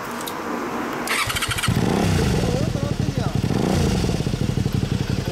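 A 1992 Honda CBR250RR in Repsol livery starts up, its inline-four catching after a brief crank and settling into a loud, close, rapid-pulsing idle with slight revving.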